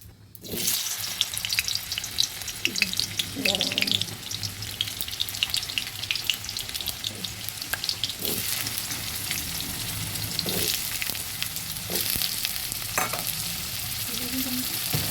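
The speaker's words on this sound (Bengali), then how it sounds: "কড়াই গরম হয়েছে কড়াইতে তেল দিয়েছি এবার আলুগুলো দিয়ে দেবো" Diced potatoes drop into hot oil in a wok for a jackfruit curry, a loud continuous sizzle with occasional scrapes and clinks of a spatula, close by and uninterrupted.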